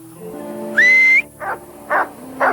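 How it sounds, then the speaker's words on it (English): A shepherd's single shrill, sustained whistle command to sheepdogs on a New Zealand farm, rising at the end, followed by three short barks or yips spaced apart. "The only guideposts, his sharp, shrill whistles of command."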